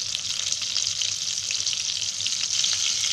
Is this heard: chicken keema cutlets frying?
yes